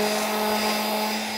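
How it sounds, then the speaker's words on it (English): An electric sander runs steadily on cured epoxy resin, giving a continuous close whine with a strong hum, loud and uninterrupted for the whole moment. "I'm really good with my sander."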